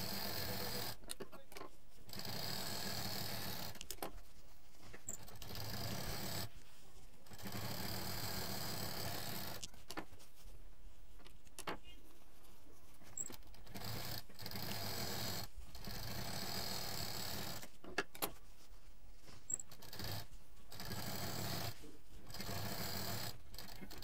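A sewing machine stitches fabric pieces for a patchwork shopping bag in repeated runs of fast, steady whirring, broken by short pauses, close and fairly quiet.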